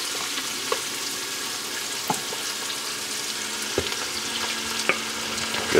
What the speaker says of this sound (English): the minute you start to smell the garlic, in with the sausage you go